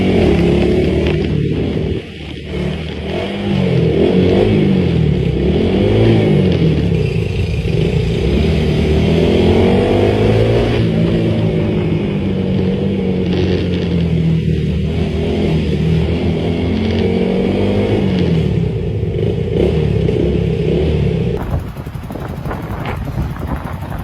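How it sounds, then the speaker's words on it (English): Honda Grom motorcycle engine revving inside a parking garage, a loud continuous buzzy drone that rises and falls in pitch with repeated throttle blips, echoing with wind rush over the microphone. "Listen to that motor."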